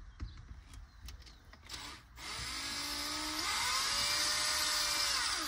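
A screwdriver backs small screws out of a device. After a few light clicks and taps, a steady whirring whine starts and keeps running, close and fairly quiet.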